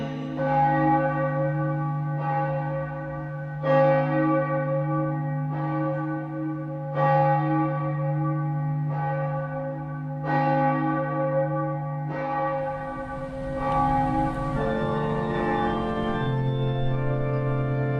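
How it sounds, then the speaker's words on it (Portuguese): A small church bell at the Igrejinha da Glória tolls in slow, evenly spaced strikes, each ringing out with a long, resonant decay, clear and fairly close, followed by a softer shift in tone near the end with no speech. "ouviu o sino da Igrejinha da Glória"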